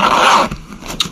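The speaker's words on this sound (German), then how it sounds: "Den Reißverschluss zu." A zipper on an airbag vest is pulled shut in one quick, close rasping stroke that lasts about half a second, followed by a couple of soft handling taps.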